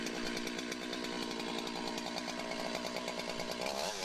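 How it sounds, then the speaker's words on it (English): A Husqvarna 371 XP chainsaw runs loud and close at a steady high rev, its buzzing engine droning without pause. "the last item to be tested is the Husqvarna 371 XP chainsaw"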